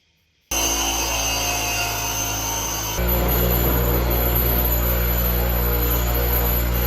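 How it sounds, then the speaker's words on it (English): A power grinder switches on and runs steadily, grinding down welds on a metal knife holder. The close, loud, continuous whine shifts to a heavier, rougher tone partway through as the disc bites into the metal. "just hit it with the grinder"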